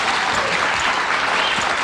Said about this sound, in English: Why don't you give them another big hand right now?